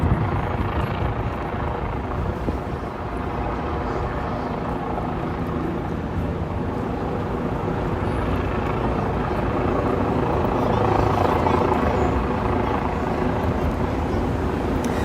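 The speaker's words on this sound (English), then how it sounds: "We got a helicopter directly above us hovering." A helicopter hovers overhead, its rotor and engine making a steady, dense drone that holds for the whole stretch without pause, loud and continuous, with no talk over it.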